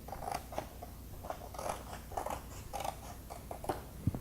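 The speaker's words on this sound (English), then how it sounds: "So we're going to cut those top flaps off right now." Scissors snipping through cardboard box flaps, a quiet series of short, irregular cuts close by with small rustles between them.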